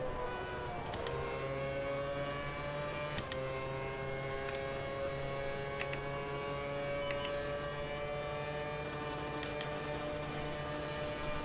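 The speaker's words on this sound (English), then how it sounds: "I'm hitting the rev limiter way too early" A Formula One car's engine in the Automobilista 2 racing game, 2011 season at the Italian Grand Prix, holding a steady high-pitched whine pinned at the rev limiter for several seconds, loud and continuous with no speech.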